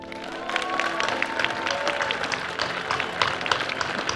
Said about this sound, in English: please give a warm round of applause to Tom Cowan